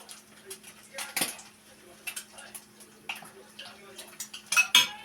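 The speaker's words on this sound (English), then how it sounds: "So I'm just gonna butter my toast, my bread, and just put it in there with it." A knife spreads butter on toast on a plate, making light, close scrapes and small clinks of metal on ceramic in irregular bursts.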